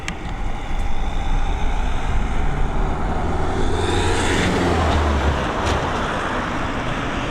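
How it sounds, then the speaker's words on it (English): An Aer Lingus Airbus A320, registered in 2001, departs Dublin Airport with a continuous loud, broad jet engine roar that holds steady and swells slightly as it climbs away, with no talking. "There we go, that A320 up and away."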